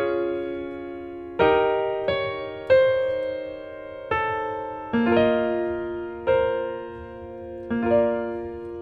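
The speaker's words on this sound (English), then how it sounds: "So we hear his theme, but it's not his villain theme. It's just his regular theme." The Vulture's regular theme from the Spider-Man: Homecoming film score plays as slow orchestral chords, each entering with a soft swell and sustaining before the next. Seven or eight warm, gentle entries fall in an unhurried rhythm.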